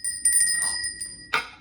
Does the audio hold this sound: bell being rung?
yes